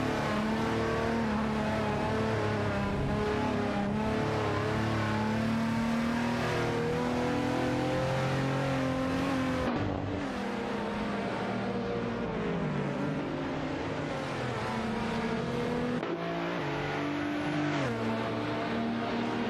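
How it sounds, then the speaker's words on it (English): Vauxhall race cars accelerating in a racing video game, engines revving and whining steadily and loudly for the whole stretch, with pitch shifts as the cars change gears, and a brief dip near the middle. "Racing car dashing away."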